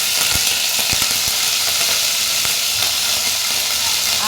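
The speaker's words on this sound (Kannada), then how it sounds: "ಇವಾಗ ಕರಿಬೇವು ಸೊಪ್ಪನ್ನು ಹಾಕೊಳ್ಳೋಣ." Fresh curry leaves tossed into hot oil for rasam: a loud, continuous close-up sizzle and hiss, with a few sharp crackles and spits early on.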